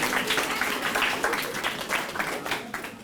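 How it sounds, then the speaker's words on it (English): Students clap for a presenter stepping forward at a school Black History Month presentation, a steady dense patter of many hands sustained at moderate level throughout. "Let's applaud her as she comes forward."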